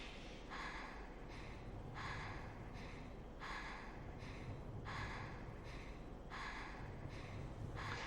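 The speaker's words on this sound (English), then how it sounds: "I think that's supposed to be Miku panting because she's low in health." In the Fatal Frame video game, the character Miku pants from low health: faint, regular breathy puffs repeat about every three-quarters of a second over a steady low background, with no speech.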